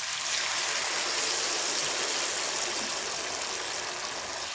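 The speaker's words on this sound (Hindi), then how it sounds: "यहाँ पे अब मैं गर्म पानी 1 लीटर डाल दूंगी" Hot water, about a litre, is poured into a cooking pot for pilaf, giving a continuous, steady rushing splash that stays loud and close throughout with no talk over it.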